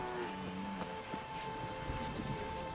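Steady rain in The Witcher 3: Wild Hunt patters continuously across a broad wash of noise, with faint scattered drops and a low tonal hum underneath; no voices.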